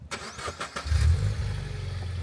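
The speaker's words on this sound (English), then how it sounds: "start the car" A car's engine cranks briefly and then catches on a road trip in Japan, settling into a loud, steady low rumble close by with no talk.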